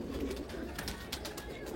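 Abluk pigeons in a home loft coo steadily, a soft low murmur that runs continuously and stays fairly faint, with no voices over it.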